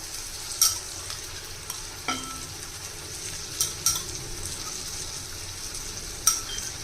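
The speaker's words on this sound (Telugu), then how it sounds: "చక్కగా వేగిపోయింది ఇదిగోండి బేజ వేసేయాలి" Mutton brain (bheja) frying in a pan with chilli powder and coriander powder, a steady low sizzle with a few sharp clicks and stirring scrapes, close and moderately quiet, no talking.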